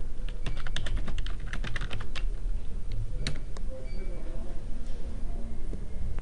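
Fingers type text on a computer keyboard, quick irregular clicks and taps close by that run almost continuously.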